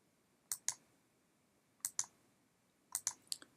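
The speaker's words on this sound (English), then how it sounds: "I click play." Mouse clicks on the play button of a Unity game demo, sharp and quiet, arriving as three small clusters of two or three clicks each, with no talking.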